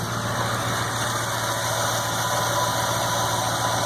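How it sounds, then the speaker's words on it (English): A Lincoln Navigator's 5.4 3V V8 idles steadily and close up with a constant mechanical hum as the AC compressor engages, with no talk. "See if our compressor's coming on."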